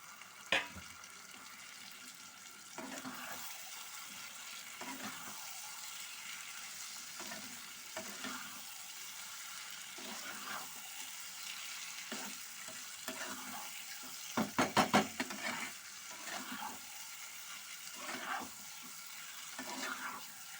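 Meat sizzles and fries in a dry pan with no oil or water added, with a spatula scraping and stirring at intervals and a brief clatter near the middle; fairly quiet and steady, with no talking.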